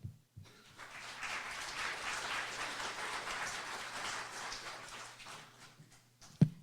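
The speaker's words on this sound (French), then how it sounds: "ça mérite une bonne main d'applaudissement" Audience at a special broadcast honouring Acadian architect Nazaire Dugas breaks into steady applause, a fairly quiet, even wash of clapping that runs for several seconds before ending with a sharp thump.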